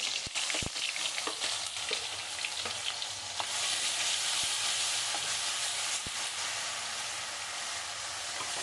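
Raw ground onion paste hits hot oil already holding crackled cumin seeds and fries with a loud, steady sizzle, broken by a few sharp crackles and spatters, with no talking.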